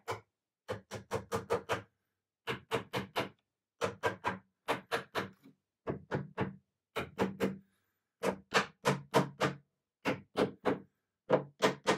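Old nails are hammered back into the trim of a rustic wooden chest in quick clusters of four to six crisp taps, each cluster separated by short pauses, close and clear.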